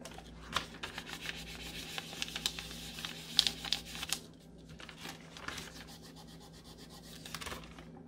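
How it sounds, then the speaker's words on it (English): Paper lightly rubbing and burnishing polymer clay jewelry pieces, a close, quiet series of short scratchy strokes and soft crinkles, irregular and alone without talk. "I'm just going to kind of rub the top to make sure no fingerprints are on them"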